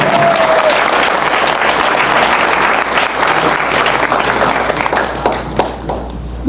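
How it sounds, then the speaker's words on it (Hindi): Loud, full applause from a large audience at a Jain Paryushan stage performance, a continuous wash of clapping that holds steady before thinning slightly at the end. "अंकल के लिए जोरदार तालियां"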